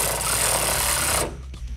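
A power tool drives bolts into a vehicle bumper during a decal installation, a loud continuous close-up buzzing whir lasting over a second before cutting off sharply.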